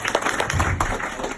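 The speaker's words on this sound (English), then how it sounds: "Round of applause if you have kids" A live comedy audience breaks into a short round of clapping at a stand-up show, dense hand claps forming brief, fairly loud applause that fills the whole moment with no talk over it.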